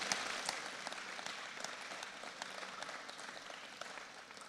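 Audience in an arena at a FIRST Tech Challenge robotics qualifier applauding the adults, a steady, fairly faint and distant wash of many hands clapping, unbroken for about four seconds.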